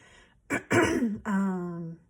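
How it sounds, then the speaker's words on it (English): A person clears their throat with a few rough, gravelly bursts ending in a drawn-out hum, close and fairly loud. "if I keep clearing my throat"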